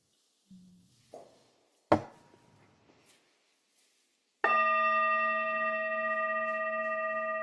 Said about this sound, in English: head monk, if you will begin to gong us in.